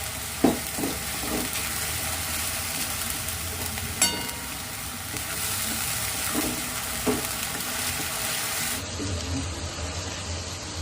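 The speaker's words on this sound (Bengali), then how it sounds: "হ্যাঁ, পেঁয়াজটাকে তো ভাজতে হবে ভালো করে," Onions frying in a pan for a doi katla fish curry, a steady broadband sizzle running throughout with occasional clinks and stirring knocks, close and moderately loud, no talk.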